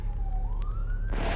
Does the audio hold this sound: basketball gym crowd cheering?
no